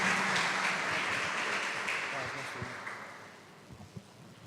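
A church congregation at a conference applauds, a broad wash of many hands clapping that slowly thins and fades over several seconds, a few scattered claps trailing at the end.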